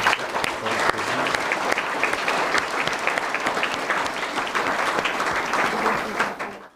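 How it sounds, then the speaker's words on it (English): Audience clapping at an intra-school English debate competition, loud dense applause from a crowd that swells quickly and holds steady before ending abruptly. "So please clap for Rocky Tevatia."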